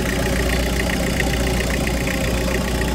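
Mitsubishi L300 van engine idling with its air-conditioning compressor running, a steady dense rumble with a faint rhythmic knock, loud and close, continuous with no talking.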